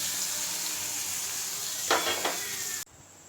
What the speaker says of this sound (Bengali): এবার তেলেতে এই 3টে পেঁয়াজ কুচো দিয়ে দিলাম